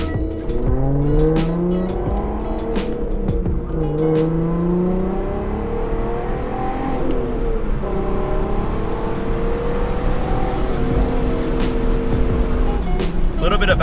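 A blue Volkswagen R32 on the move, engine pitch climbing and dropping through several gear changes with steady road and tire noise, heard from close by while a person talks over it.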